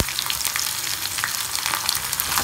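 Onions and spices temper in hot oil for dhal curry, giving a loud, close, continuous sizzle with crackling bursts and popping spatter and no talking.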